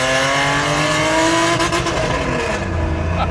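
A loud, close RWB Porsche 993 drives past with a continuous roaring engine whose pitch climbs and falls as it revs, filling the whole stretch with dense, gritty exhaust noise.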